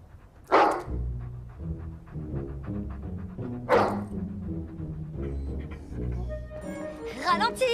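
A dog in a house lets out two loud, sharp barks a few seconds apart, close by, over steady tonal background sounds, with another short yelping burst near the end.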